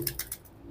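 A racing pigeon in a loft gives brief soft coos and faint rustles, close and quiet, with no one speaking.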